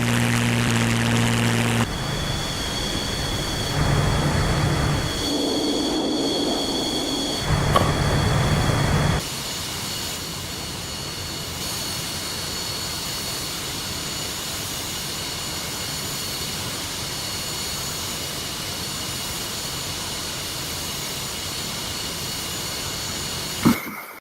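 Jet aircraft engine roar inside the DCS flight simulator game, a loud steady drone with tonal whine that shifts in character partway through and continues unbroken to the end, with no talk over it.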